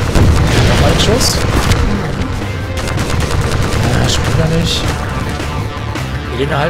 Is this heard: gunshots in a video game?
yes